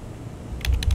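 Fingers type a website address on a computer keyboard, a quick cluster of three or four crisp key clicks close by over a low background hum.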